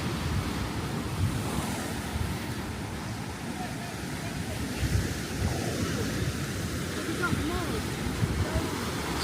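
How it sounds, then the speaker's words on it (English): Sea waves come in against rocks on a beachfront at Calpe, Spain, a continuous rushing surf with soft surges, mixed with gusty wind noise on the microphone. "watching the water coming in, hitting those rocks."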